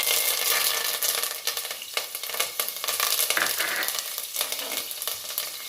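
Dried red chillies and curry leaves fry in hot oil with a loud, dense crackling sizzle, close and continuous with bursts of spattering, alone without speech.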